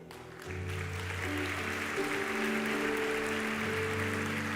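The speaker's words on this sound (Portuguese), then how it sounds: "Aplauda ao Senhor." A church congregation claps steadily at an evening service, a broad wash of hands close and sustained, with an organ or keyboard chord humming underneath throughout.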